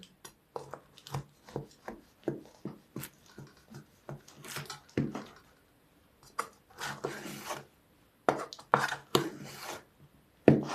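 A knife cuts a soft baked yeast pie into squares, making repeated rasping, crunchy strokes through the crust in uneven bursts with short pauses between cuts, close and fairly quiet.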